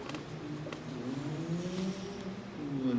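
Car traffic on Main Street passing by and accelerating, a steady engine drone with rising and falling tones from vehicles moving past, fairly close and continuous throughout.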